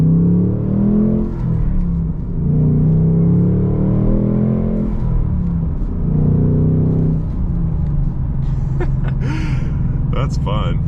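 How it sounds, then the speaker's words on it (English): A 2024 Ford Mustang GT with a 6-speed manual accelerates, its engine giving a deep rising rumble that swells in waves through the gears, heard from inside the car, with a person speaking near the end. "So we can do just a little acceleration here."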